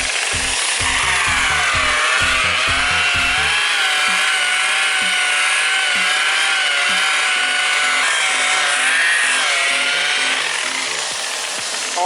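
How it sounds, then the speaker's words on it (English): An orbital polisher with a foam pad works on a car headlight, a loud, steady whine that wavers in pitch as pressure changes, with some clunking handling knocks early on. "if you have an orbiter or like a polisher, you can go at about 1700 RPM"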